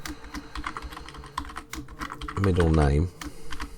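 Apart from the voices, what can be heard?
typing SQL query on computer keyboard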